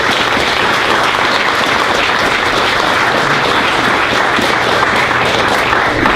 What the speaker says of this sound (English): I'd like for all of us to kind of give a round of applause to these people who work so hard and